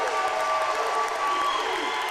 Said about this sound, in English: That is the cheer that you are hearing as both teams take